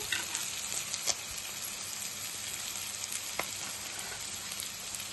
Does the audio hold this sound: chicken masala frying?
yes